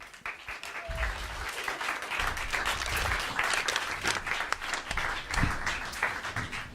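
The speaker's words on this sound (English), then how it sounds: "A round of applause, please." An audience applauds Michael Dunlop of BMW Motorrad Hawks Racing at a TT Senior Race press conference, a steady round of clapping from a modest crowd in a room, with some low thumps underneath.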